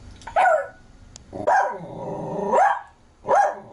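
A dog barks three times close by, short sharp yelps separated by a longer whining, drawn-out bark in the middle.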